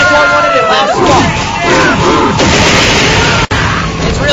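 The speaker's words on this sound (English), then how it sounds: "the crowd gets loud sometimes" Loud, dense bar crowd roaring and shouting during a pool match, a continuous heavy wall of voices and yells with a brief dropout near the end.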